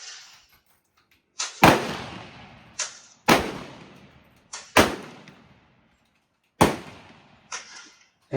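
Rifle shots at an NBRSA benchrest competition, five sharp cracks at irregular intervals with short echoing tails, fairly close and outdoors.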